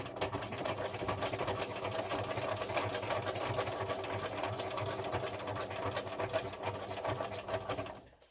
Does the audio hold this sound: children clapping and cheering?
no